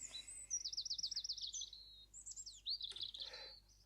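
Small garden birds chirping and trilling near a spot where bread scraps are put out for blackbirds and pigeons, a rapid warbling run followed by several bright, clear tweets, fairly close and with no talking.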